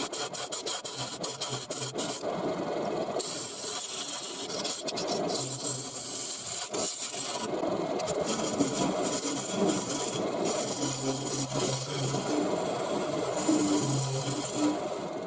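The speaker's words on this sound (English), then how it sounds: "making the recess or the mortise with the detailing tool from Easy Wood Tools" A woodturning detailing tool from Easy Wood Tools cuts a recess into a spinning wood blank on the lathe, giving a steady, rasping scrape with brief pauses and shifts as the cut changes, close and continuous.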